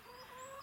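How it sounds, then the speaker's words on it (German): A hen, one of about six backyard chickens and partly paralysed in the legs, gives a short, close cluck against a quiet morning background. "das ist mein Huhn"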